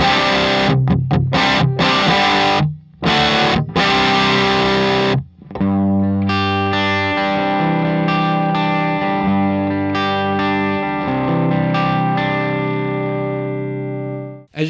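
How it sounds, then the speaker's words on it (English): Electric guitar through a Tonkraf Phoenix distortion pedal with the effects loop bypassed, wide open: a few loud, heavily distorted chord stabs, then a long sustained, saturated chord ringing out alone. "there is so much more distortion. This is wide open with the effects loop bypassed"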